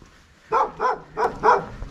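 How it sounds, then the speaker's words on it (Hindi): A dog, resembling a wolf, barks four times in quick succession at close range, each bark short and evenly spaced, with no talking over it. "अरे ये तो हिंदी में भौंक रहा है"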